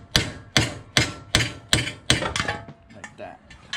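Sharp hammer blows knock a steering knuckle loose from a Mazda Miata ball joint: seven loud, evenly spaced metallic strikes, close up, followed by a few lighter taps.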